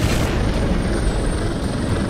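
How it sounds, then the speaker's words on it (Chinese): In the video game Prototype 2, a hijacked military helicopter flies with a continuous, heavy, rumbling rotor drone that stays loud and even throughout, with no talking over it. "我啲唔系好识揸直升机嘅真系"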